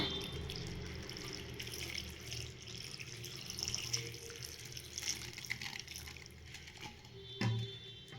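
Water pours and splashes into a cooking pot for chayote keema kootu, a steady trickling fill with a few drips, fairly quiet with faint kitchen background noise.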